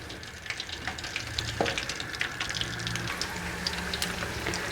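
Chicken seekh kebabs fry gently in hot oil in a pan, a quiet, continuous sizzle with scattered light pops and crackles, soft and close, with a faint watery hiss underneath.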